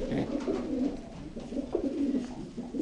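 A pigeon coos repeatedly in low, throaty rolling phrases, close by and steady, with no voices.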